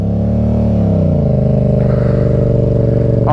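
Yamaha MT-07 motorcycle with a tuned ECU, its engine held at a high idle around four thousand rpm, a loud close throbbing drone that drops slightly in pitch and settles, with a brief rev blip at the end.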